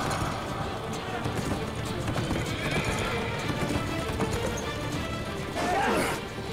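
Horses gallop in a steady drumming clip-clop under battle cries and shouting in a historical drama charge scene, with a loud neigh rising near the end over the dense, loud mix.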